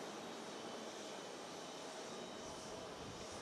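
A dense, broadband roar of a jet airliner landing on runway 22 left at JFK, heard as steady distant engine rumble and rushing air with no voices.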